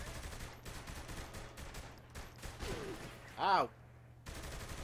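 Sniper and other gunfire in the video game Saints Row 3, a dense run of shots crackling under a voice with a short cry, then a gap of near silence before the firing picks up again.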